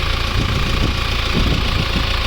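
A 2018 Mahindra Thar 4x4 CRDe diesel engine idles close by, a steady low rumble with a faint knocking clatter that stays constant for the brief stretch.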